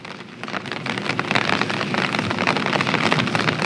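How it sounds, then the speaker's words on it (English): Heavy tropical downpour in Guatemala roaring as a dense, constant hiss of rain drumming on surfaces, building slightly louder after the first second and staying loud and close with no talking. "A basic downpour."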